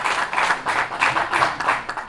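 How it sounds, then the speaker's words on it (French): Applause from an audience at a press conference premiere for the artist Jacky Kingue, with dense clapping in steady bursts, close and fairly loud, and no talk. "Je vais vous demander d'applaudir encore très très très fort pour Émile"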